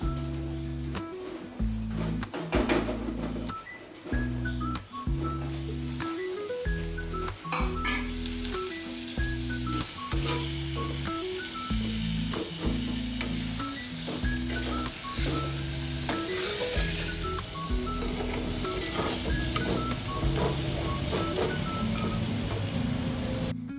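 Chili sizzles and fries loudly in a frying pan as tomato goes in for a Kochi-style fish curry. The close, steady frying hiss runs throughout, with spoon stirring and clinks and no one talking.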